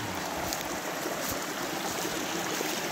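A river near Gornja Tramošnja rushes in a steady, unbroken wash of flowing water, close and even throughout.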